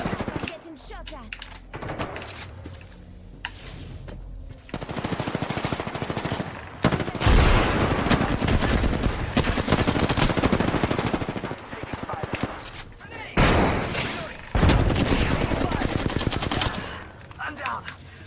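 Video game gunfire in rapid automatic bursts, loud, dense crackling volleys that come and go, with a player talking over parts of the action.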